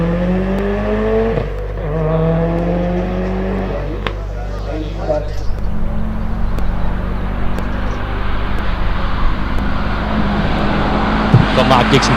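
A Subaru STI WRX engine revs hard at a hillclimb, loud and sustained with rising tones, then fading to a rough broadband roar while a voice speaks over it early on.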